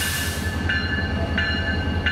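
A train rolls past on the tracks at Halethorpe, Maryland, with a steady close rumble and a sharp metallic ring repeating about every 0.7 seconds, like wheels clicking over rail joints. Nobody talks.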